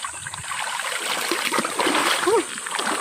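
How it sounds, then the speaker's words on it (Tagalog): Water spilling over into a natural stream pool splashes and trickles steadily, a close, continuous wash with a brief louder splash near the end. "Nagluluwas-luwas man tubig."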